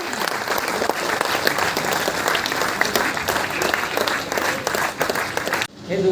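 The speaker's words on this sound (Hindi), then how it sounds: "जोरदार तालियां जोरदार होनी चाहिए भाई" A crowd at a live motivational event in Kolkata claps loudly and continuously, dense applause with voices mixed in, cutting off abruptly near the end.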